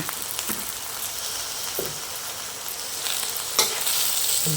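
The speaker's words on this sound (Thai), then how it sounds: "เราก็ผัดคลุกเขาให้เข้ากันเลยนะคะ เมนูผัดผักใส่หมู" Chinese cabbage and pork stir-fried in a pan with oyster sauce and a little sugar, a continuous close sizzle broken by the scrape and clatter of a spatula tossing the vegetables.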